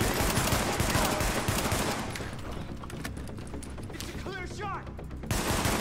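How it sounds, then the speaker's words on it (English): Gunfire in the video game Tom Clancy's The Division, dense rapid bursts of automatic shots filling the clip, loud and continuous with a brief lull near the end, a voice talking briefly over it. "You just keep shooting like that."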